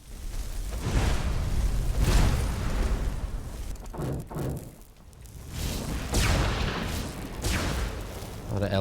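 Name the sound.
explosions from elementals in video game Enderal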